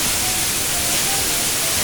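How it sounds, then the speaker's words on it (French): The Cascade du Déroc, a waterfall on the Aubrac plateau falling among basalt columns, gives a steady, dense rushing roar that fills the brief moment evenly, with no voices. "Là, on a la cascade elle-même"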